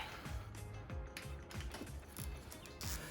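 Rapid ratcheting clicks come from a hand tool undoing bolts during the teardown of a Lexus IS300 engine. The clicks are close and repeat in quick bursts under a continuous mechanical clatter.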